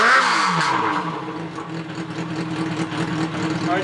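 Honda CB750 motorcycle engine running at steady idle while being synced and tuned, a loud, close, even mechanical drone with a slight rise at the start and no speech.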